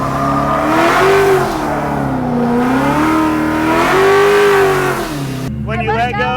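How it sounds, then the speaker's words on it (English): Car engine revving and wavering in pitch during a handbrake drift at a Ford festival, a loud continuous rise and fall with voices talking over it near the end. "As soon as you steer down and handbrake and you feel the car start the rotation"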